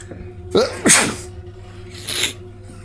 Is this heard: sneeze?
yes